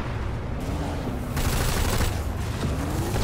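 Sustained gunfire in the PlanetSide 2 battlefield, dense overlapping bursts and booms forming a loud continuous barrage that swells midway, with no clear talk over it.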